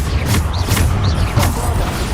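The Bombarda blasting spell from Hogwarts Legacy bursts out loud and close, a heavy rumbling boom layered with creaking, mechanical crashes.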